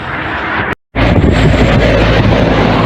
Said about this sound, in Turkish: Dışarıda öyle bir rüzgar var ki anlatamam. Aşırı rüzgar var.